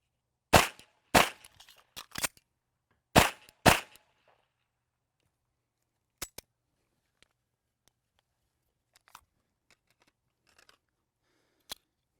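A Beretta 92X pistol firing during reload drills, five sharp close shots in two quick bursts, followed by faint scattered clicks and handling noises.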